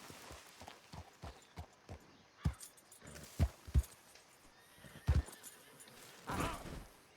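A horse in Red Dead Redemption 2 walks with slow, spaced hoofbeats, then gives a few heavy snorts and a louder neigh near the end, all close up with no talk.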